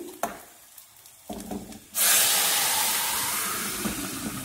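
A tempering of spices for masoor dal made with toor dal hits hot oil in a pan, bursting into a loud, steady sizzle after a couple of small clinks, then hissing on continuously close up.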